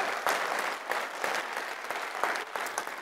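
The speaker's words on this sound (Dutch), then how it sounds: "Applaus, ja." Audience applause at a student election debate at Tilburg University, a steady wash of many hands clapping at even loudness for a few seconds, with no voices on top.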